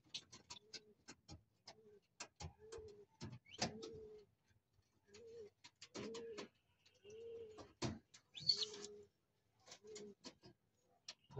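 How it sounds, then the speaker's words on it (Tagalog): Racing pigeons in a loft coo softly in repeated low, throaty phrases, interspersed with faint clicks and rustling in a quiet space. "Ayan, ito na yung ating mga ibon."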